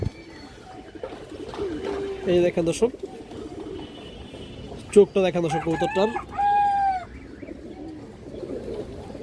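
A high-quality, big-headed male pigeon coos in low, short bursts while someone talks over it close by, and a rooster-like call rings out briefly in the background.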